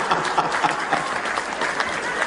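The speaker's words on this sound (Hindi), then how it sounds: "ताली बजाओ, सांस लेना है।" A live audience claps steadily at a Hindi poetry convention in Dallas, Texas, a dense even patter of many hands filling the room for a couple of seconds.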